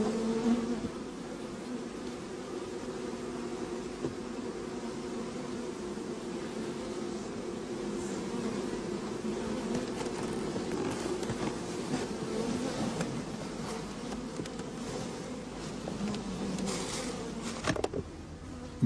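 Honey bees buzzing around comb frames during a hive inspection, a dense, continuous hum of many insects close by, steady and moderately quiet throughout.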